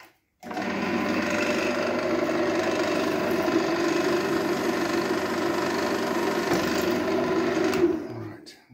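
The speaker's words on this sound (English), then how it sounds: "I might just drop that drill down a little bit." A power drill bores through metal while building a mower racer front end, its motor whining at a steady pitch for about seven seconds before stopping.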